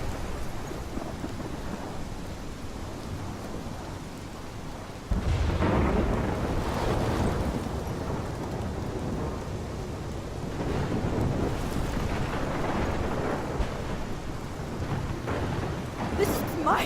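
Thunderstorm with heavy rain in Life Is Strange, a constant rain hiss broken by loud, close thunder cracks and long rumbling swells, with no talking.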